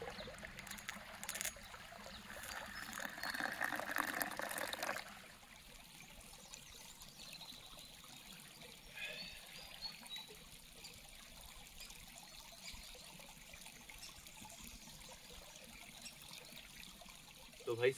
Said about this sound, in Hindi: इसको डालते हैं कॉफ़ी में।